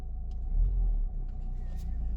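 An old Renault Mégane's engine runs roughly after a restart, a low, uneven rumble with a brief louder surge near the start before settling into a steady idle.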